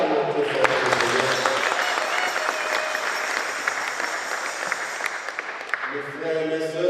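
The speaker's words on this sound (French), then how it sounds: "Acclamons très fort le Seigneur." A church congregation applauding loudly during an Easter service, dense sustained clapping from many hands that fades near the end as a voice comes in.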